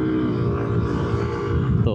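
Yamaha Aerox Turbo scooter engine kicking down under hard throttle, a loud, steady buzzing drone with a slight change near the end, while a voice talks over it.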